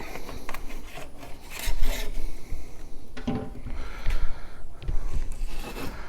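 Seasoning rub being spread and patted onto a brisket flat before barrel smoking, heard as close, continuous rasping and rubbing strokes of varying intensity, with no talk.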